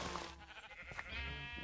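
A sheep in a video game bleats once in a short, wavering, nasal cry, close and fairly loud over steady game background noise.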